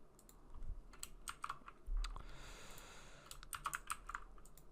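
Rapid, quiet computer keyboard typing while entering a console.log line of JavaScript code, keys clicking in irregular bursts close up with no talk.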